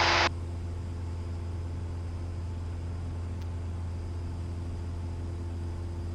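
Steady low droning cabin noise inside a DV20 light aircraft in flight with two people aboard, a constant engine and airflow hum running evenly throughout with no talk.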